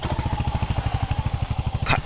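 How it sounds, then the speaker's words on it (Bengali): A 125cc motorcycle engine running at a steady idle while a mechanic checks a noise, with a fast, even throbbing pulse close by and a brief clatter near the end. "গাড়ির আওয়াজ হচ্ছে, ওটা চেক করছে মিস্ত্রি।"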